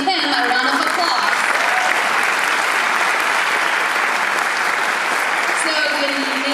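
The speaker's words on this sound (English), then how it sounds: "So let's give him a round of applause." A steady, dense round of applause from an audience at a Chinese New Year celebration program holds at an even level throughout, with faint voices at the start and end.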